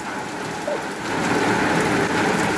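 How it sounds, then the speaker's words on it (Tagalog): Heavy rain pours down in a dense, continuous hiss, growing slightly louder partway through, with no voices. "Grabe ulan, guys, eh."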